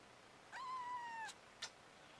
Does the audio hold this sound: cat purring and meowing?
yes